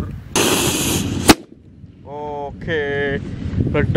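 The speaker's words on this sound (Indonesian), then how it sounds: "Kita nyalakan lagi kupu-kupu warna hitam. Oke, meledos" A black butterfly firecracker is lit and hisses in a loud fizzing burst that ends in one sharp crack, followed by a pause and then nearby talking.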